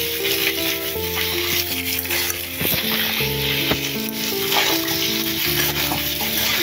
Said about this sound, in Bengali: সবজিগুলোকে ভালো করে কষিয়ে নেব।